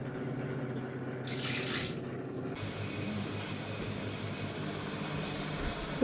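Borewell water running from a tap, a steady close splash and hiss that continues without a break.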